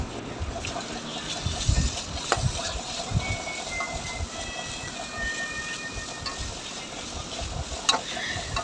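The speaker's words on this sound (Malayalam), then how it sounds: "സവാള എല്ലാം കൂടെ നല്ലോണം ഒന്ന് വഴറ്റിയെടുക്കാം" Onions sautéing in a pan keep up a steady sizzling hiss, with occasional scrapes and taps of a spoon against the pan mixed in.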